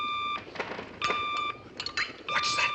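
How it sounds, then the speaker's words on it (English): Electronic beeping in short repeated bursts, a steady high tone sounding on and off several times, fairly clear with faint background noise. "the beeping is coming from the blinking red thing right in front of his face"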